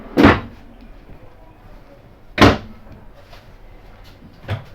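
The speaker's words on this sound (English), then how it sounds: "A drawer." A bathroom drawer in a 2022 Grand Design Solitude 280RK RV is pulled open and pushed shut. It gives three sharp, close knocks, two strong and one softer at the end, with quiet room tone between them.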